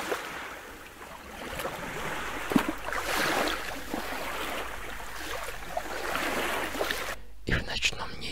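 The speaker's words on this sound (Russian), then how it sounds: "слышно, как легкие волны плещутся о борт лодки" Gentle small waves slosh and lap against a boat hull continuously, with soft splashes and a breezy hiss, fairly close and steady throughout.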